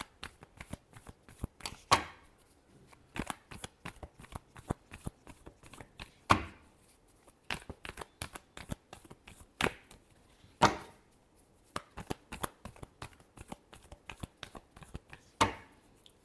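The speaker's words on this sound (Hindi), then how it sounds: "Last shuffle." Tarot cards being shuffled by hand: a steady series of crisp riffling and slapping bursts, close and fairly quiet, with a few sharper taps at regular intervals and no talk.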